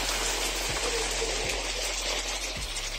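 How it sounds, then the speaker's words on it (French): Heavy rain pours down steadily in Porticcio, a dense, even hiss that stays loud and constant throughout, with a few low thumps underneath. "Il pleut tellement les gars, mais regardez."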